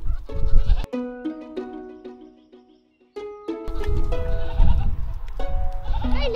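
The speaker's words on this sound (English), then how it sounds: "These are pretty nasty goats." Several goats bleat close by in loud, repeated wavering calls that overlap, with a short quiet gap before the calls resume.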